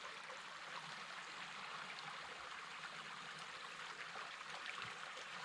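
Water rushes steadily through a 50-year-old dam gate after it has been opened, a broad, continuous wash and roar that stays close and loud, with no voices over it.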